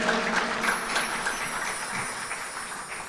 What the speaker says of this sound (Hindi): इसलिए तालियां बजवाता हूं मैं आपसे, जरा एक बार बजा दीजिए फिर चलें